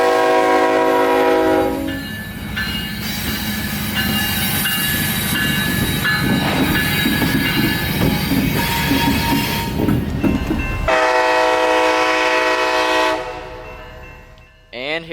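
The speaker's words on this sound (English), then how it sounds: "a power move coming around the north leg of the Winston Y coming into the yard." A CSX locomotive power move rumbles and clatters past entering Winston Yard, with steady engine roar and wheel noise, a loud horn blast sounding at the start and again near the end.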